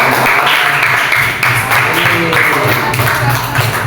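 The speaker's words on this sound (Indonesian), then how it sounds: "Ya, kasih tepuk tangan dong." Dense, steady applause from a classroom of students for a presenting group, continuous clapping filling the whole stretch with mild rises and falls, with faint voices mixed in.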